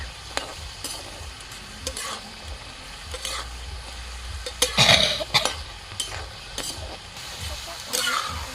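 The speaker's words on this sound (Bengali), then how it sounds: "আঁচটা কমিয়ে কমিয়ে ভাজবে তাহলে ভিতরের অংশটাও হয়ে যাবে" Cashews frying in a pan on a low flame, with a continuous gentle sizzle broken by repeated scraping stirs and a louder clatter of the utensil midway, close by and without talk.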